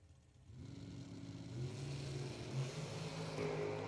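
Drag race cars accelerate down the strip at a Mutt and Jeff Promotions race, a steady engine roar that swells and holds, moderately loud and somewhat distant, with no talk.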